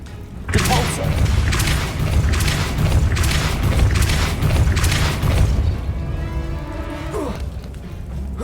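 In the video game Hogwarts Legacy, the Repulso spell sets off a loud, booming blast. It is a heavy, sustained rumble of impact that fades into ringing debris after about six seconds.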